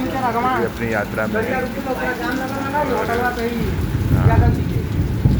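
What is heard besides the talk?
rain falling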